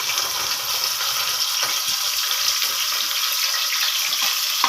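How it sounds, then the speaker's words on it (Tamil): Onion sautés in oil with spices for paruppu arisi sadham, a continuous bright crackling hiss heard close and fairly loud, steady throughout with no voices. "அதை போட்டு நல்லா வதக்கிக்கணும்"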